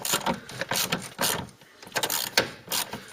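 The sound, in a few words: ratchet undoing a crusty captive nut on Cortina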